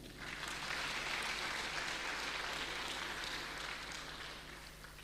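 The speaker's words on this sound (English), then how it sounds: "Can we give Esther a hearty clap?" Applause for Esther at a Zetech University gathering, a broad steady wash of clapping from an audience that holds for several seconds and eases slightly toward the end.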